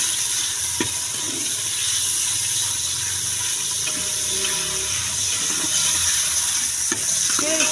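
Okra frying in a pan, a steady dense sizzle with occasional stirring scrapes, close and continuous with no talking.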